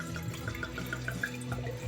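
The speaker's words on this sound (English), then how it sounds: "I'm going to go ahead and pour a little glass right now" White wine blend poured into a glass, a brief gurgling trickle with small bright splashes, close and fairly quiet, no voices.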